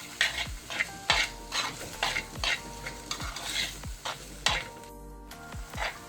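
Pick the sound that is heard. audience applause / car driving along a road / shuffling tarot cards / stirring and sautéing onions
stirring and sautéing onions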